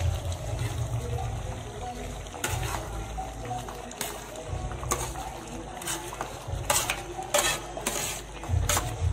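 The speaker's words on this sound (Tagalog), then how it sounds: "Pwede na i-mix natin ang rice. So, just mix it slowly." Rice being mixed slowly in an oiled pan for chicken biryani, with soft scraping and stirring, occasional clinks of a spoon against metal, and a low background hum.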